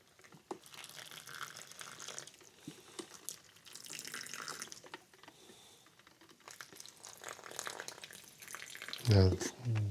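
Water running from a tap onto small potted succulent plants, a steady trickling and splashing with a few clicks, heard alongside talking and a louder burst near the end.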